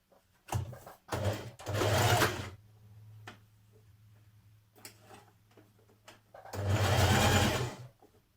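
Sewing machine stitching the front panel of a skirt in bursts, several short runs followed by a longer steady run, close and fairly quiet, with a low motor hum between bursts.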